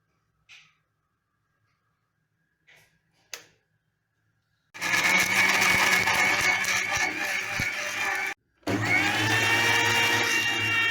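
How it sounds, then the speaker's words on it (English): A home kitchen mixer grinder starts up after a few faint clicks and knocks, whirring loudly and steadily while blending for ghee rice, cuts out briefly, then resumes its high-pitched motor whine. "now you can go and put off the mixer"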